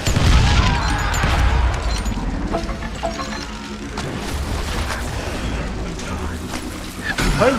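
An explosion and gunfire in the Call of Juarez: Gunslinger video game, a loud, dense crash and rumble with crackling impacts throughout, while a voice talks over the action.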